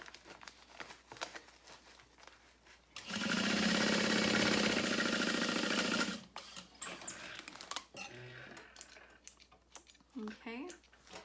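A sewing machine runs in one steady, loud burst of about three seconds while stitching the bottom seam of a fabric beauty bag, with quiet fabric handling and light rustling before and after.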